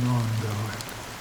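Steady rain in Honkai: Star Rail, a soft even hiss of falling drops lasting about a second, with a low voice briefly heard at the start.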